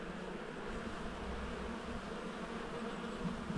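Honeybees robbing a hive at a small apiary, a dense continuous buzz of many insects swarming around a nearly closed entrance, steady and close, with no voices.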